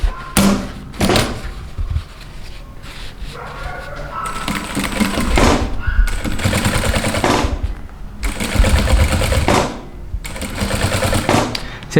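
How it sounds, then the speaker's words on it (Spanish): Sewing machine stitching a piping-trimmed fabric pocket, running in loud rapid mechanical bursts separated by short pauses, close up with no talk. "Vamos a coser de este lado."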